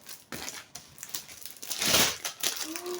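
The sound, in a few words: crinkling plastic package from a TEMU parcel being unpacked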